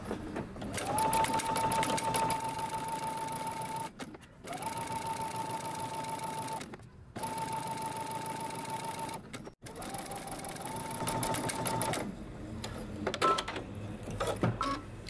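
Sewing machine basting the edge of a hoodie band, several fast steady runs of rhythmic stitching broken by short pauses, close and clear.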